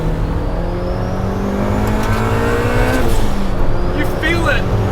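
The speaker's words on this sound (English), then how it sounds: "The car definitely builds speed really quite quickly" A turbocharged Honda Civic Si EM1 with a built B18C engine and BorgWarner turbo, about 400 hp, accelerating hard: a loud rising engine note climbing through the revs, with a brief shift and then a renewed pull.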